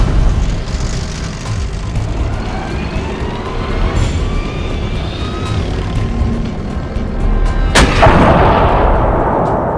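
A tank cannon fires a single sharp, loud blast near the end, set against a continuous heavy rumbling background.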